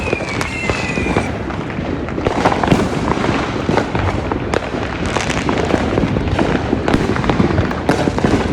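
Fireworks and firecrackers burst without pause on Chicago streets, a dense, continuous crackle of pops and bangs at varied distances, with a faint whistle early on.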